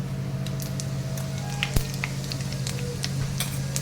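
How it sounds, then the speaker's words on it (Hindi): Mustard seeds and cumin sizzle steadily in hot oil in a kadai, a continuous close frying hiss with scattered small pops and one sharper crackle near the middle. "कढ़ाई में तेल गरम होने के लिए रख दिया था, तो अब उसमें डालेंगे हम थोड़ी सी राई"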